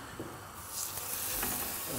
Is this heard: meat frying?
yes